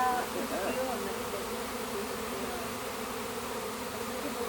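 A honeybee swarm moving into a hive gives a steady, dense buzzing that stays close and constant throughout, with no talk over it.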